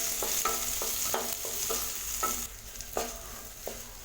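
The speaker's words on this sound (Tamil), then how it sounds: "இதை நம்ம எண்ணெயில் போட்டு நல்லா வதக்கிக்கலாம்." Round slices of country bitter gourd, seeds left in, sautéing in sesame oil in a pan, with a soft sizzle under scattered spatula knocks and scrapes, close and moderately quiet.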